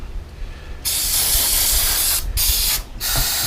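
Carburetor cleaner sprayed hard through the passages of a disassembled carburetor, heard as a loud steady aerosol hiss in three bursts with two brief pauses, no talking.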